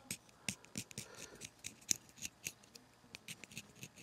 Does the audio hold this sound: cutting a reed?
yes